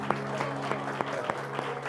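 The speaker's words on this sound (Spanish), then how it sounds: "Judith, un aplauso a Judith, bienvenida" A church congregation claps to welcome a newcomer, a soft, somewhat distant patter of applause with a few sharper claps standing out over a steady low hum.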